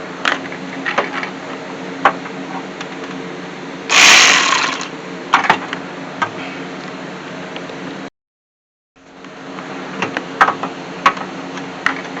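A size 12 socket ratchet loosens bolts on the alternator of a 2007 Honda CR-V, giving rapid mechanical clicking in bursts, close, with a louder scraping burst partway through and a brief silent gap.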